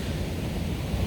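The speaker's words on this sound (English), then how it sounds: "If you hear the waves crashing in the background of this video" Steady roar of ocean waves on Playa Los Destiladeros beach in Pedasí, Panama, with a constant dense wash of surf and wind noise against the microphone.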